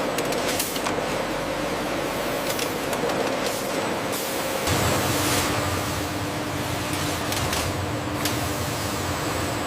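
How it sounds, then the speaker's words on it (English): Machinery in a modern condom factory applying measured doses of lubricant to each condom. It gives a steady mechanical whir with repeated short hissing spray bursts, and a tonal hum shifts partway through. "a measured amount of lubricant is applied to each condom"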